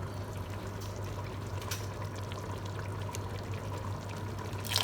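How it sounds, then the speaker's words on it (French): Water poured from a glass into a cooking pot of tajine with meat, sweet potatoes and raisins, a steady soft trickling stream over a low hum, with a few faint clinks. "Je vais rajouter de l'eau."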